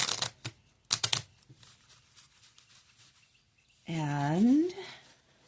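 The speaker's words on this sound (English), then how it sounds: "I decided to shuffle all of the overall energy cards back into the deck" Tarot cards are shuffled back into a deck close by, giving a few quick papery riffling bursts in the first second and a half, followed later by a loud, rising chirp-like tonal sound.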